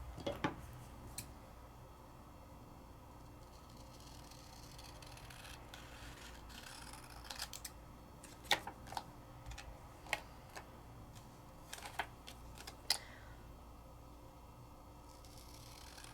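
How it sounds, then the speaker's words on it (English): A mat of Mirri cardstock is trimmed with a Pocket Pal trimmer, making sparse, faint ticks and sharp little clicks with soft rubbing between them in a quiet room. "So I'm just going to take and trim down."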